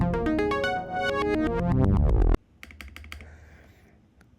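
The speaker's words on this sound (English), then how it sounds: "let's put these keycaps on, and we'll figure this bottom row out here" Keycaps are pressed onto a mechanical keyboard, producing a run of sharp plastic clicks and snaps that come close and fairly loud after a stretch of tonal sound.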